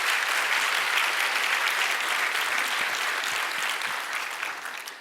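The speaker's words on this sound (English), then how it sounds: "I'll let him know that you all clapped" Sustained audience applause in a presentation room, steady dense clapping from many hands that fades slightly toward the end, with no talk over it.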